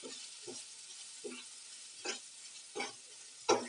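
Chili powder frying in oil for an onion curry, a steady faint sizzle with soft stirring scrapes recurring about every second, close and without talk.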